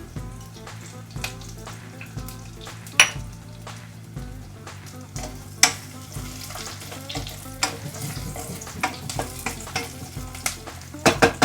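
Curry leaves frying in hot oil for a Kerala chicken curry, a continuous close sizzle broken by repeated sharp ladle scrapes and knocks against the pan, growing busier toward the end, no voices.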